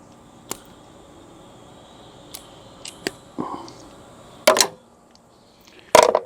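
Wire snips cut through a thin tail light wire on a 2000 Ford ambulance, producing several sharp, close clicks and snips spread out, with a couple of louder crunching cuts near the end.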